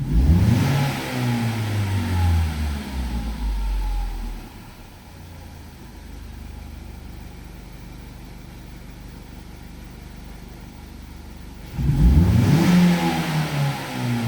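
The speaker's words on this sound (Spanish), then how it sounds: "cuando yo acelero el motor" A Ford Focus 3 ST engine revs up loudly with rising pitch, drops back to a steady idle for several seconds, then revs up hard again, close and without voices.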